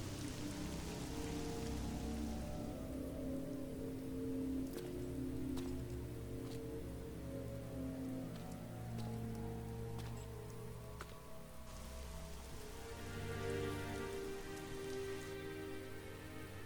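Heavy rain pours in the video game Devil May Cry 3, a dense, steady hiss of drops on surfaces under a low droning musical score that swells and fades.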